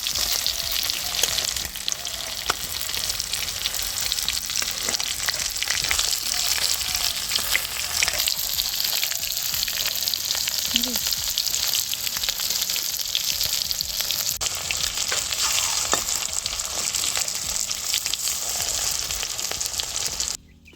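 Fish-oil fritters fry in a pan over low heat with a steady crackling sizzle, dense and continuous, close up with occasional small pops and a faint stir.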